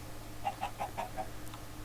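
Minecraft chickens clucking in a quick run of five or six short, evenly spaced clucks, faint and close over a low steady game background hum, with no speech.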